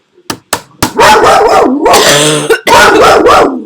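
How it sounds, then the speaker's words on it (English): A dog barks loudly and close by in several sharp bursts, the last ones running together into a long, harsh volley. "that's my dog barking evilly"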